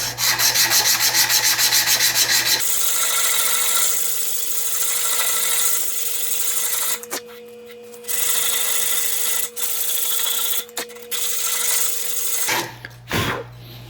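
Sandpaper rubbing back and forth over a carved wooden 7-inch minnow lure, a steady close scratchy hiss broken by a few short pauses before stopping near the end.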